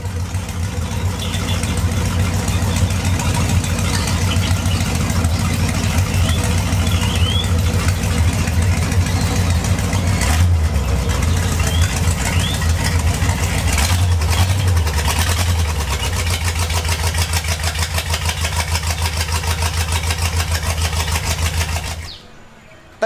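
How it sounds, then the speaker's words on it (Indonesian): A used V8 454 marine engine warming up at idle, a steady, loud, low rumble holding for over twenty seconds before cutting off abruptly at the end. "Mesinnya dipanasin terus biar anget."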